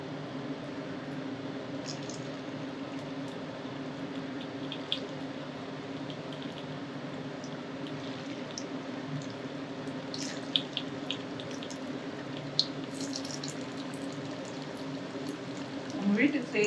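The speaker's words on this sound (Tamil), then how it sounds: "எண்ணெய் காயத்துக்கு முன்னாடி சிக்கனை போட்டோம்னா அந்த கடாயில் அப்படி பிடிச்சிக்கும்." Chicken pieces frying in hot oil in a kadai, a steady sizzling hiss that runs evenly throughout with a few faint crackles and pops, moderately loud and close, with no talking.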